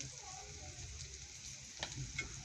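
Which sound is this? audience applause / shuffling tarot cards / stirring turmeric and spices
stirring turmeric and spices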